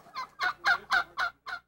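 A turkey gobbles in six rapid, evenly spaced warbling bursts, loud and close, with no talking.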